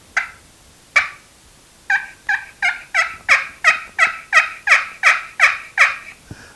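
A hand-held turkey call imitating a soft turkey hen yelp, with two single yelps followed by a steady run of about a dozen evenly spaced, rising yelps, close and clear over quiet background.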